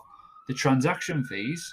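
A distant siren wails at a steady pitch behind someone speaking close to the microphone, faint but continuous under his voice.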